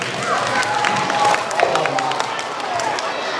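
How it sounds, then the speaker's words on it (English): A live-show crowd applauds for a contestant named Jenseo, clapping and cheering mixed with voices and some movement, fairly loud and busy. "Let's give a round of applause for Jenseo."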